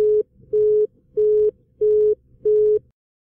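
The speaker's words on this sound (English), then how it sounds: "when we call someone but they are busy, the busy tones last approximately 1/3 of a second" Telephone busy signal: five short steady tones, each about a third of a second, separated by brief silences in an even rhythm, clean and alone.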